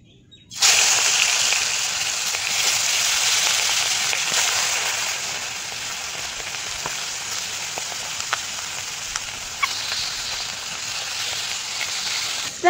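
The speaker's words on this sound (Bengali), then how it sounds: "লবণ আর হলুদ দিয়ে মাছের মাথাগুলো ভেজে নেব।" Fish heads coated in salt and turmeric fry in hot oil, giving a steady close sizzle that starts abruptly and holds alone throughout, with a few faint pops and crackles.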